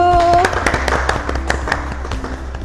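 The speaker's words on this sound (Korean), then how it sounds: "김혜익 팀장님을 소개시켜 드리겠습니다. 박수!" Audience applause at a Korean property presentation for the Grand Bay Naksan residential hotel, with sharp hand claps spread through the clip and a tone fading out early on. Faint voices sound underneath.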